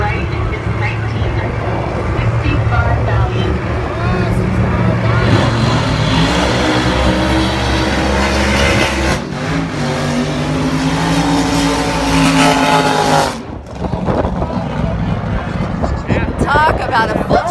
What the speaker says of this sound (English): Talk about a full track burnout.